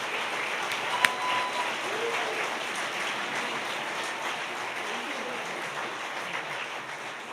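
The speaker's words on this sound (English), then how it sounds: "let's give him one more round of applause" Sustained crowd applause at a public service award ceremony, a dense steady wash of clapping hands that holds evenly throughout with one sharp click near the start.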